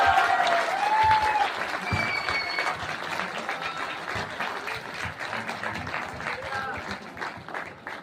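A large stadium crowd applauds in a dense, sustained wash of clapping that holds steady throughout, with scattered cheering and voices mixed into the roar.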